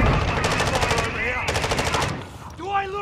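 Rapid automatic gunfire from bots in a Call of Duty match, two loud sustained bursts of machine-gun fire close by, followed by quieter in-game sounds and a rising electronic tone at the end.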